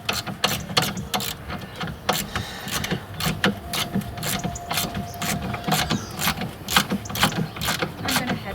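Ratchet tightening nuts on an Iveco fuel filter, rapid close clicking in uneven runs of strokes, steady and fairly loud throughout.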